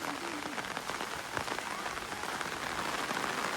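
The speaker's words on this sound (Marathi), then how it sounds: "आणि पाऊस पण सुरू झालो." Monsoon rain pours steadily onto a muddy Konkan paddy field during rice planting, a dense, even hiss of drops, continuous and moderately loud outdoors.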